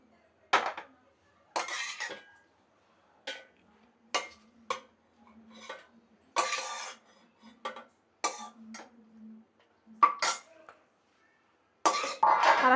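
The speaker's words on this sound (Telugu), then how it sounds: "మిక్సీ జార్లో వేసేసుకుందాం ముందు." Boiled ingredients for paneer butter masala are spooned into a mixer jar: a series of separate scrapes, taps and clinks of a spoon against metal and the jar, close and fairly quiet, with brief silences between them.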